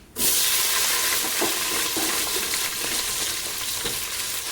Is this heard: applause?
no